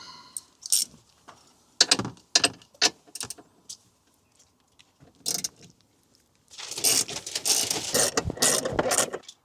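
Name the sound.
ratchet removing Torx T30 seat bolts in Ford Transit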